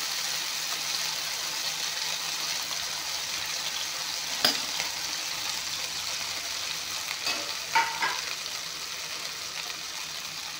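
Okra fries in refined oil with a steady, even sizzle throughout, broken by a few sharp clicks and small pops of utensil contact near the middle and later; no voices.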